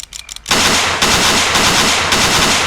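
Sustained, dense automatic gunfire from a squad firefight in Ghost Recon Navy SEALs, erupting loudly after a brief quieter lead-in and continuing as a heavy, unbroken barrage close by.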